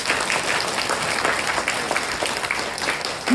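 A crowd at a kindergarten end-of-term ceremony claps for the teachers, a dense, steady burst of applause that fills the room without pause.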